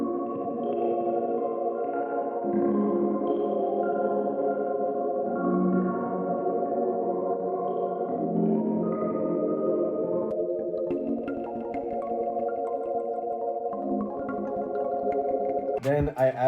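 Lo-fi bamboo preset chords for a smooth R&B sample, washed in room reverb, delay and cassette-style filtering, holding a continuous mellow pad that ends in a brief glitchy burst.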